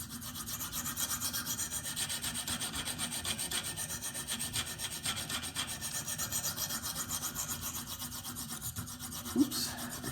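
A Spyderco PM2 knife with an S35VN steel blade is stroked along a KME sharpening stone in steady, rhythmic rasping passes, close and even, with a small sharp tick near the end.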